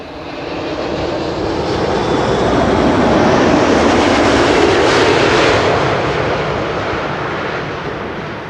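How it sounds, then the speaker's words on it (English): An airliner landing at Schiphol on the Kaagbaan runway: a loud, broad jet roar from the thrust reversers swells to a peak mid-way and then eases off, steady and close, with no talk. "Listen for the reverses being applied."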